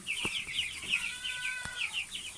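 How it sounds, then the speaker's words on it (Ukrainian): Many small 23-day-old chicks cheep and chirp continuously nearby in a busy, high-pitched chorus, with a few soft taps underneath. "Такі курчатка."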